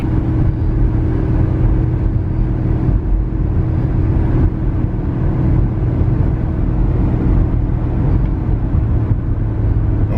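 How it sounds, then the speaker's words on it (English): A 2006 Nissan's engine drones in a loud, steady low rumble from inside the cabin as it drives under throttle, with road noise and a subtle shift in pitch as the transmission downshifts; no voices. "So I'm still on the gas and it did downshift."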